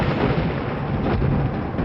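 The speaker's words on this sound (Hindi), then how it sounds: "तेज हवाओं के साथ साथ बिजली भी कड़कने लगी" Thunder cracking with strong winds and rain during an evening storm, a loud continuous rumbling roar that fills the whole stretch without pause, with no voices.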